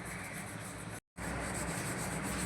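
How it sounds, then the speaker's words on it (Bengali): A conch shell scrubbed clean by hand, a close, steady abrasive rubbing that runs continuously, breaks off for a brief instant near the middle, then resumes just as evenly. "ভালো করে আমি ঘষে নিয়েছি শঙ্খটা।"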